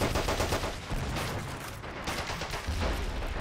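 Dense, continuous gunfire in Men of War: Assault Squad 2, with bursts and rattling shots layered over steady battle noise, loud and close throughout.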